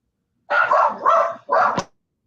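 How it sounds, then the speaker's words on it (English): A dog barks three times in quick succession, loud and close, inside a home during a wrestling talk show recording; the barks come in short bursts with a sharp ending. "Dog's just going crazy."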